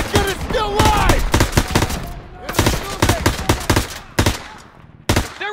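Rapid automatic gunfire from a World War II battlefield in Call of Duty WW2, loud dense bursts of shots crackling in quick succession with brief gaps, over shouting voices.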